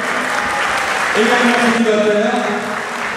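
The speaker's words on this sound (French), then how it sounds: "Je vous demande d'applaudir bien fort, Monsieur Franck Balchak" An audience at a Polish-themed music celebration for a harmonia's 85th anniversary in Bully-les-Mines applauds a musician, with steady clapping running under someone speaking over a microphone and a sustained musical tone.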